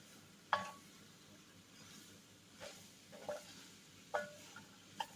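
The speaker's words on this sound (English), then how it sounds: "get that roux mixed all in those veggies" Spoon stirring roux into vegetables in a pot for sausage and shrimp gumbo, faint low sizzle beneath several distinct scraping and clinking strokes spaced about a second apart, no talking.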